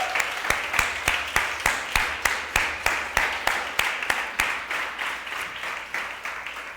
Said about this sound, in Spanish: Dele un aplauso al Señor porque Él es bueno